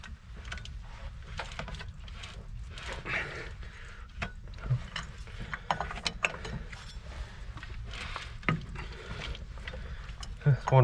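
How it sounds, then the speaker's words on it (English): Repeated ratcheting clicks and mechanical clunks as a cabover truck engine is barred over by hand with a ratchet to seat a belt, with scraping and knocks throughout at close range. "I'm gonna bar the engine over and we're gonna try to get this belt to just kind of pop on"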